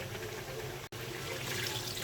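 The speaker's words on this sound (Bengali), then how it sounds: "পানি দিয়ে দিচ্ছি এবার।" Water poured into a pot of chicken curry being cooked with small Bogura potatoes, a steady, close rushing pour running nearly continuously with one brief cut midway.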